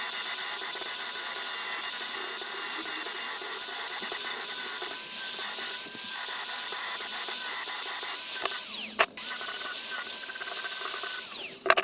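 Grinder dressing down a weld on the steel sill of a Land Rover 110 under restoration, a steady high whine held for most of the stretch with one brief dip near the end, loud and close with no talk.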